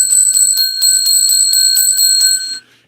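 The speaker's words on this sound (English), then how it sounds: "Oh, I got to ring the bell." A bright metallic hand bell rung in a quick, even series of about ten strikes, loud and close, ending with a short fading ring.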